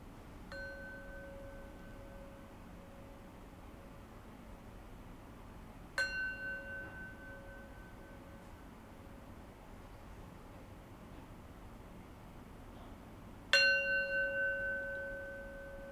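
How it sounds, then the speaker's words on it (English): Three separate rings of a meditation bell, each a bright clear strike with a long resonant ringing decay, spaced several seconds apart over a quiet, faint background hiss; the last strike is the loudest. "I'll close today's practice with 3 rings of the bell."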